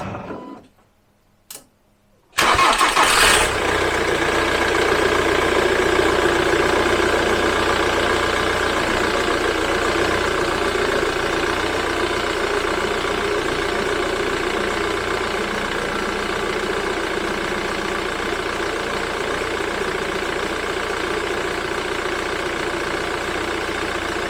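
A Jaguar X-type estate engine cranks briefly after a few quiet clicks, catches and settles into a steady, loud idle that continues evenly to the end.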